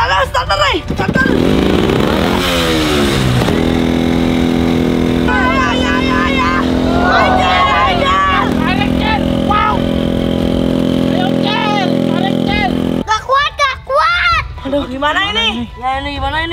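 A trail motorcycle engine revs hard and steadily while towing a stalled truck up a steep incline, the drone continuous and loud beneath shouting voices, with a lower truck engine rumble alongside.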